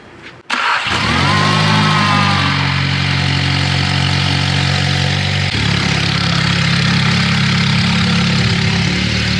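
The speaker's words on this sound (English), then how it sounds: "The battery is flat, so we're just gonna see if it'll crank it." A VW Jetta with a flat battery, jumped from a booster box, cranks briefly and fires up, then settles into a steady, loud idle close by with no talking.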